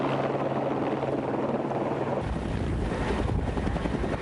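Helicopter airlifting a film crew and equipment to a mountain location, a steady loud rotor drone with wind rumble that deepens and grows heavier halfway through.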